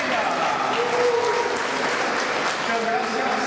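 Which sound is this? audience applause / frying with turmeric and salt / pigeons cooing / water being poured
audience applause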